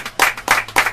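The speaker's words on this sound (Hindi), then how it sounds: "आइए परमेश्वर को जोरदार ताली के द्वारा धन्यवाद देंगे।" A church congregation clapping loudly in applause, giving thanks after prayer during a Hindi sermon, with three sharp, close bursts of many hands within a second.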